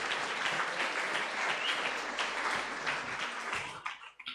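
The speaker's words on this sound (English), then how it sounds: "can we give them a round of applause" An audience at a politics and environment talk applauding, with steady, dense clapping from many hands that fades toward the end.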